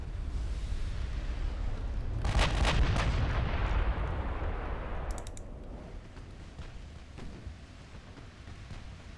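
Heavy warship main guns firing in Ultimate Admiral Dreadnoughts, a loud cluster of booming blasts with sharp cracks that roll into a long rumbling decay, followed by a few fainter distant shots.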